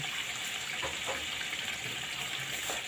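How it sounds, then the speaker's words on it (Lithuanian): Boiling water pours steadily into a pot of meatballs being cooked, a soft continuous splashing gush heard alone and close. "Tiesiog įdėsim verdantį vandenį."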